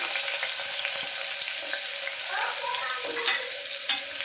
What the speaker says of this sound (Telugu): ఇప్పుడు ఆయిల్ హీట్ అయిందండి. ఒక ఆనియన్స్ ఇలా సన్నగా కట్ చేసి పెట్టుకున్నాం కదండి, ఇలా యాడ్ చేసేసుకున్నాము.